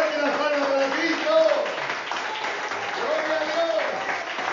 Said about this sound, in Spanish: Dale los fuertes las palmas para Cristo